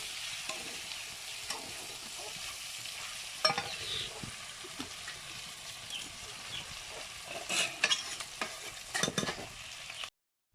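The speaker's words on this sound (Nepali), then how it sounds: "यसलाई चाहिँ भुटेर मात्रै निकाल्ने" Local chicken meat stir-fries in a pan with a steady quiet sizzle, punctuated by occasional scraping clatters of a utensil stirring, louder near the end.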